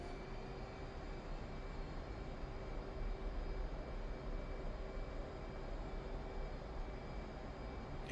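Steady jet engine roar at full throttle in the DCS flight simulator, a continuous broadband rumble with a faint whine, constant and unbroken throughout.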